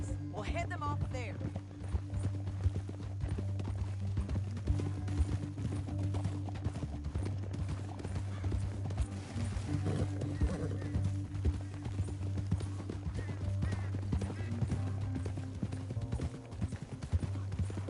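Horse hooves clip-clop steadily through a Red Dead Redemption 2 canyon scene, rhythmic and close, running beneath a low droning score while characters talk over them.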